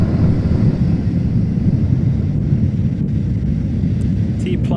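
A SpaceX Falcon 9 rocket carrying a Dragon capsule on a resupply mission to the International Space Station rumbles loudly in flight, a dense, steady low roar with wind buffeting and little variation.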